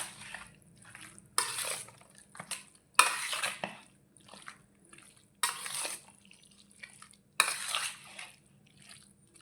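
A spoon scrapes and stirs through thick gongura chicken pickle in a metal vessel, with five or six distinct bursts of clinking and scraping separated by quiet pauses and no talking.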